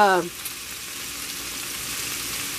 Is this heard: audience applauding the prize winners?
no